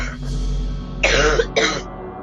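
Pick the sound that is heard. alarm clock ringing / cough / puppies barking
cough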